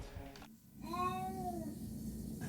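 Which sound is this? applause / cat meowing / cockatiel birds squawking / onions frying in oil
cat meowing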